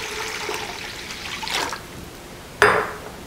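Water is poured into a pot of corned beef brine seasoned with pepper, bay leaves and minced garlic: a soft trickling pour, then a short, sharper splash near the end, with no speech.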